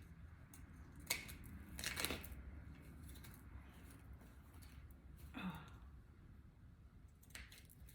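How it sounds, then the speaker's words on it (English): Scissors snip through paper for a Dollar Tree Valentine banner, giving a few scattered crisp cuts over quiet background rustle, spaced seconds apart and fairly faint. "we're gonna just cut this last side"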